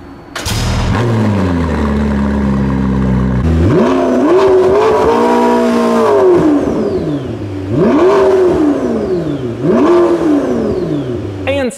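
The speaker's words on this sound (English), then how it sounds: "Take a listen to a startup and then a couple of revs." A McLaren P1 GTR race car fires up with a sharp startup burst and settling idle, then rises through several loud, close rising-and-falling revs with a brief final blip.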